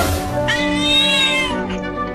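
A kitten meows in a single drawn-out, rising then falling cry, loud and close, with no talking over it.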